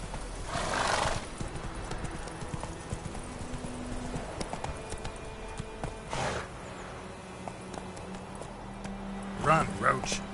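Galloping hooves of the horse Roach in the game The Witcher 3, steady clip-clop under a voice, with neighs and whinnies breaking through near the start and end.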